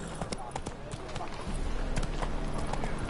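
Horse hooves clip-clopping in the video game The Witcher 3, a steady trotting rhythm heard under continuous game voices and background sound.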